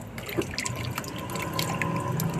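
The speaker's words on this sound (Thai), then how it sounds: "แล้วก็เอาไปล้างค่ะ ล้างน้ำเปล่าละสามสี่รอบนะคะ ถูถูตรงเปลือกมัน" A pumpkin is washed under running tap water, its skin rubbed by hand, giving a continuous close splashing trickle with small drips and knocks.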